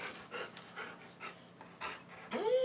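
A pet dog pants indoors in quick, soft bursts of breathy huffs, fairly close and quiet, ending with a brief whimpering whine.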